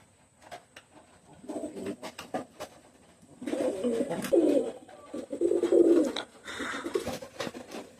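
Teddy pigeons coo in soft, repeated bursts of low throaty calls close by, with occasional wing rustles and small clicks between them.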